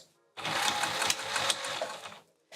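A sewing machine runs in one steady two-second burst, its rapid needle clatter stitching a seam on a velveteen pouch, starting and stopping abruptly close by.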